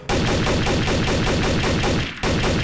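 Rapid automatic gunfire from a Garry's Mod Trouble in Terrorist Town match, loud and dense with a steady stream of shots, broken by a short pause near the end before the firing resumes.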